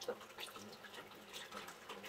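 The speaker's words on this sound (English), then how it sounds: "this spout seems to have boiling hot water coming from it" Hot water from a hot spring spout splashes and trickles in a steady, faint stream, heard close by with a little speech.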